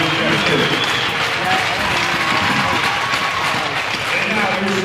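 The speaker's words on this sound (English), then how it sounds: "please give a round of applause for River Falls Youth Hockey Players of the Week, Ben Robinson and Brandon Jackson" Arena crowd at a high school hockey game between the River Falls Wildcats and Amery applauds the youth hockey players of the week, a sustained dense roar of clapping and cheering that echoes through the rink.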